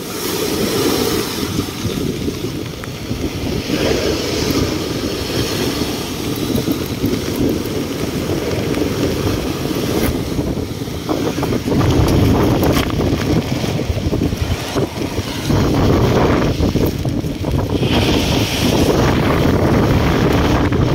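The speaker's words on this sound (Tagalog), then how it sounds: "Pero yung hangin malakas." Strong storm wind roars continuously and loudly around a house, buffeting the microphone with heavy rumbling gusts that never let up across the whole stretch.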